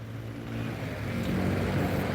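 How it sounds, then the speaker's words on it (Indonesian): A large bus from Sumatra with a Patriot-style body, door number 57, pulls in with a steady low engine rumble that swells and grows louder as it draws close, with no voices over it. "Masuk satu unit lagi bus dari Sumatera dengan transfer kayak bodi Patriot"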